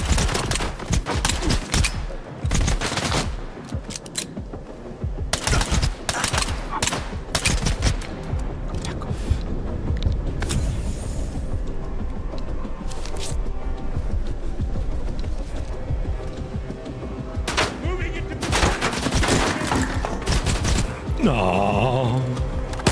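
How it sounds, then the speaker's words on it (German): Dense, loud gunfire from the video game Stalker 2: sustained bursts of automatic fire and overlapping shots rattle almost continuously, with a brief lull near the start and no speech over it. "Wo wird denn jetzt da geschossen?"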